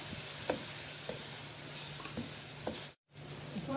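Masala with home-ground red chili powder fries in a pan, a steady close sizzle and hiss broken by soft scraping stirs every half second or so, with one brief dropout near the end.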